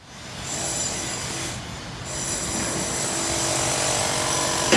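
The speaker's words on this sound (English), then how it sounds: "I wish they would stop their drill because that's annoying" Harsh, continuous mechanical grinding and high-pitched screeching from a construction drill outdoors in a Los Angeles neighborhood, steady and fairly loud throughout.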